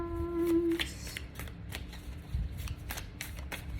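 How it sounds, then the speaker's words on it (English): A deck of tarot cards being shuffled by hand, giving soft, rapid riffling and flicking close up, with a brief tonal tone at the start and a low background rumble. "now let me shuffle tarot cards"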